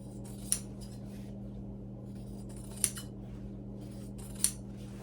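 Scissors trimming the edge of a frankenbatting quilt, three separate crisp snips spaced a couple of seconds apart over a quiet room with a steady low hum.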